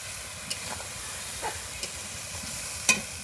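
Meat frying with spices in a pan, a steady broad sizzling hiss with a few soft stirring scrapes and clinks.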